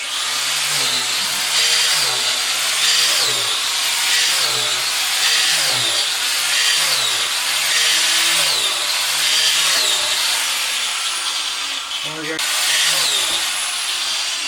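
An angle grinder fitted as a drill whines continuously and loudly while drilling holes in a log, its pitch dipping and rising in a steady cycle as it bites into the wood.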